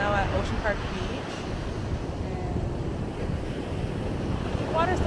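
Rough ocean waves roll in at Ocean Park Beach, Puerto Rico, a loud continuous surf roar with heavy wind buffeting the microphone and brief faint voices in the background.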